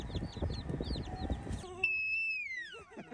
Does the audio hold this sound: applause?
no